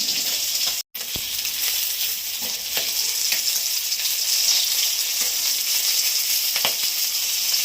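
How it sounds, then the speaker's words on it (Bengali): Tangra fish frying in hot oil in a kitchen pan, a loud continuous hiss and crackle with occasional sharper pops and spatters, close up and without speech. "মাছ ভাজা হয়ে গেছে"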